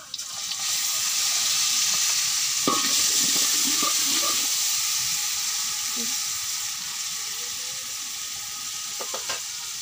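Onions with biryani spice mix sizzle steadily in a pan for khichuri, with a broad hiss throughout and a few clinks of a spoon against the pan partway through.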